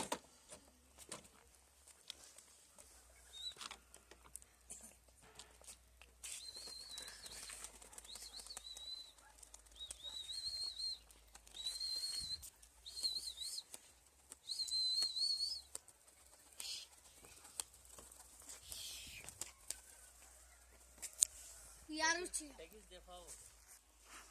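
Adana tumbler pigeons fly outdoors, with wing flaps and soft calls rising and falling over about twenty-four seconds, fairly faint, and people talking intermittently in between.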